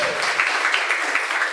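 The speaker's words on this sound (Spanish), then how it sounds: "Dale ese aplauso al Señor." Church congregation applauding at a Spanish-language service, a brief burst of dense clapping heard close and fairly loud for under two seconds, with no voices over it.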